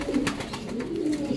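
Pigeons coo softly in a low, steady murmur, fairly faint and continuous over light background noise, with no talk.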